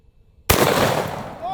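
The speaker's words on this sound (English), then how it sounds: "Let's see what happens when we hit a 6-pound can of pumpkin with the muzzle loader." A .50 caliber muzzleloader fires a ball into a six-pound can of pumpkin, a single sharp, loud blast after a brief near-silence, followed by a long rumbling tail that slowly fades.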